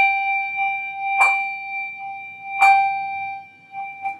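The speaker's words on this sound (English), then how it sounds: "Now the bottom bell is going to be rung by what I like to call a knock." A handbell rung four-in-hand with a knocking stroke sounds twice in clear, bright strikes about a second and a half apart, each ringing on with a sustained tone, alongside a steady background hum, and a fainter tap near the end.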